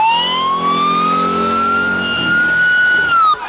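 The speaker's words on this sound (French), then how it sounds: "ils l'ont mis dans une ambulance." A loud ambulance siren wails steadily, its tone rising slowly and holding high, close by with traffic rumble underneath before cutting off near the end.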